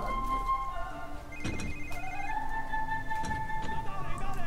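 A telephone rings in the video game Quantum of Solace, sounding as repeated electronic ringtone tones over game background noise, with someone speaking over it.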